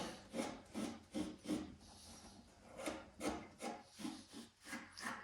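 Cloth rubs firmly back and forth across a hard MG ZS car panel in about ten rhythmic strokes, close and fairly quiet.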